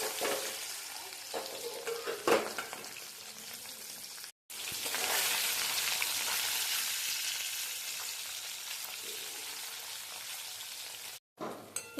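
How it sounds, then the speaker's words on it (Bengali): Chapila fish fry in hot oil in a kadai, giving a loud, continuous sizzle that drops out briefly twice before resuming. "এরপর বাকি মাছগুলোকেও ভাজা করে নেব।"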